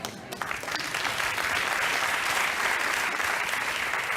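A television studio audience breaks into applause, the clapping building quickly after a brief pause and then holding as a dense, even roar of hands for several seconds.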